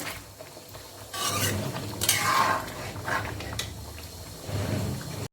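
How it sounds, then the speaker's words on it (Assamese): Pumpkin pickle frying in a pan is stirred with a utensil, a soft sizzle under scraping and clinking strokes against the metal, rising and falling in several close bursts. "ৰঙালাওৰ আচাৰখিনি প্ৰায় 3 মিনিটমান সময় মই ভাজি ল'লোঁ"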